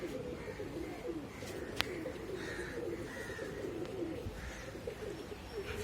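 Pigeons circle around a loft while soft cooing sounds through a steady outdoor background, joined by a sharp click or snap partway through. Nobody speaks.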